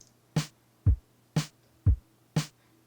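A simple programmed drum pattern in Ableton alternates kick and snare hits at a steady tempo, with three bright snare cracks and two deep thumping kicks, clean and alone with no voices.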